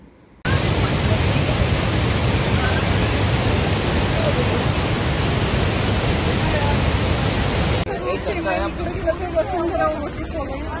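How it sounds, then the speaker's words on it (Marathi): Vasundhara waterfall at Bhandardara, a steady broadband roar of falling water filling the scene loudly for most of the stretch, then dropping to a quieter, more distant rush. "तर आत्ता आपण बघणार आहोत वसुंधरा वॉटरफॉल."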